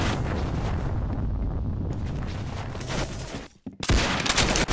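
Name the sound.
gunfire in the video game Roblox Arsenal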